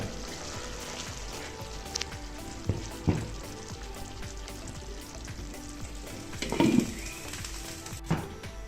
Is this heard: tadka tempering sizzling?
yes